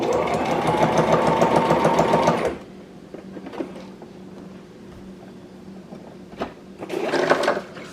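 A Brother XR3774 sewing machine runs a zigzag stitch in a loud, rapid burst for a couple of seconds, then falls quiet with faint handling noises before briefly starting again near the end.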